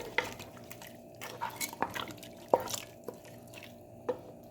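Mutton and water are stirred in a pressure cooker pot, giving scattered metallic scrapes and clinks of a spoon against the pot, faint and close.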